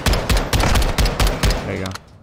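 Rapid automatic gunfire in Call of Duty Modern Warfare 2 campaign, loud close bursts of sharp repeated shots in a rhythmic pattern, ending in a short quieter tail.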